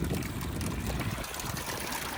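A bilge pump on a Carolina Skiff J14 discharges water in a steady trickling gush outdoors, a close, continuous splashing with low rumble beneath.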